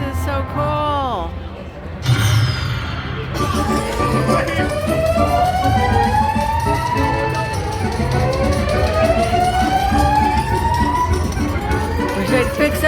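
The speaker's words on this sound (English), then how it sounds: "Wish they'd fix that silly alarm." A casino alarm sounds in Las Vegas, with rising and falling wailing tones that repeat over slot-machine chimes, loud and close, while a person talks excitedly and a burst of noise cuts in briefly near the start.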